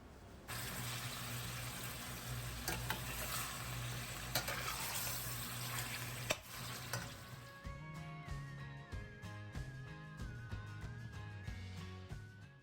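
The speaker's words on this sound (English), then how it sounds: "Fry them on medium high flame for 3 minutes until they change their color." Mutton pieces for goat karahi frying in a pan over a medium-high flame, giving a steady sizzle. Partway through, the sizzle gives way to stirring and scraping clatter, with a faint ringing tone underneath.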